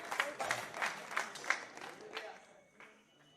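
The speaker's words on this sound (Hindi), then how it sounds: "एक बार जोरदार तालियां बजाएं" Faint applause from an audience at a Hindi poetry recital (kavi sammelan) in Rajsamand comes as a few loose bursts of clapping that thin out and fade away over about three seconds.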